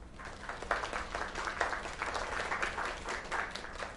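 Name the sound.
applause in a South Park video game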